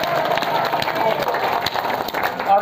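A village crowd gathered at a political meeting applauds loudly and continuously, a dense wash of clapping and cheering voices filling the whole stretch.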